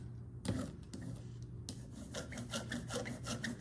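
Repeated soft rolling and rubbing strokes as a Styrofoam printing plate is inked, a close scraping rasp that comes in short bursts and steady passes, with no voices.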